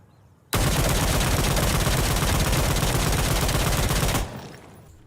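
A G3A3 rifle fitted with a compensator fires a sustained full-auto burst in Insurgency Sandstorm, a dense, loud, unbroken roar of shots lasting about four seconds before cutting off into a short tail.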